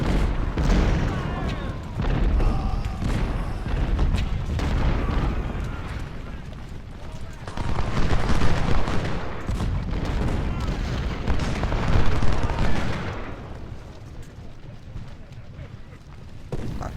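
Cannons fire in Ultimate General: Civil War at the Battle of Bull Run, producing continuous rumbling booms and crackling volleys in dense layers, with a voice talking over the battle.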